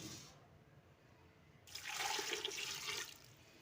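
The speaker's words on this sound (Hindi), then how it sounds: "हम इसमें डालेंगे तकरीबन 2 गिलास जितना पानी" About two glasses of water are poured into a pot of mutton mince with spices, onion, garlic and ginger, a short splashing gush that starts abruptly, runs briefly and stops, fairly quiet and without talk.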